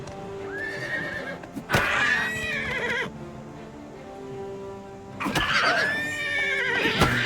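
Horse in the video game Oblivion Remastered neighing twice, each whinny loud and close with a sharp onset and wavering pitch, separated by a quieter stretch with faint hoof clops.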